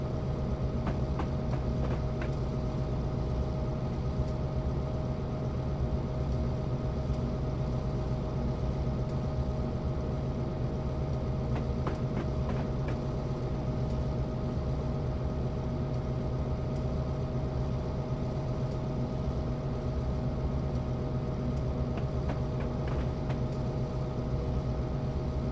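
Great Northern F7 diesel locomotive in Train Simulator 2021 running through Marias Pass in Montana, a continuous low engine drone with a steady hum and faint rhythmic clicks throughout.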